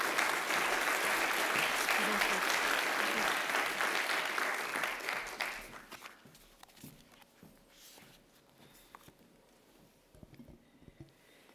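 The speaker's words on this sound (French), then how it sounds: "On peut l'applaudir." Audience applause at an official ceremony for a minister arriving at the podium, loud and steady for several seconds before thinning into scattered claps, with some murmuring afterward.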